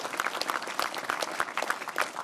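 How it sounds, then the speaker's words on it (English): Audience applause at an Ontario PC leadership debate in Ottawa, a steady patter of many hands clapping with sharp individual claps rising through the dense wash. "please give Janet a round of applause."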